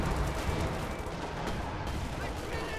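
Artillery shells from a Company of Heroes 2 real-time strategy match boom and rumble in a dense, continuous barrage of explosions and gunfire, loud and sustained throughout.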